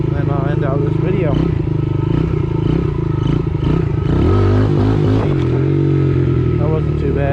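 A Yamaha TTR-110 dirt bike with new bars, shifter and grips revs loudly and steadily up close during a wheelie attempt, its engine note rising and dropping midway, with a voice talking over it.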